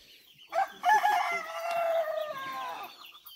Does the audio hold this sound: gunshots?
no